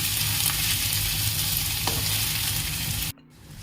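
Tomatoes and onions fry in a pan for bisi bele bath, a loud close hiss of sizzling with a faint stir, cutting off abruptly near the end.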